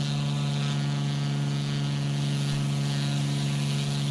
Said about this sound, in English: You can actually hear the RPMs. The prop sounds faster because we've taken the pitch out of it.